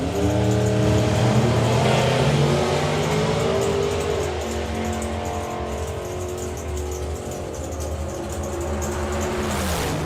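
Drag racing cars make their runs down a nationals-event strip, with a loud, sustained engine roar that fills the whole stretch and never lets up.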